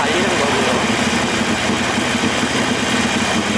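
Harley-Davidson Iron 883 motorcycle engine while riding and engine braking through corners, a loud steady low rumble with constant vibration that runs throughout at close range, with someone talking over it.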